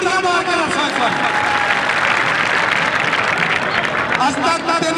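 Loud, continuous crowd applause and cheering at a kabaddi match, dense and sustained with crowd noise mixed in.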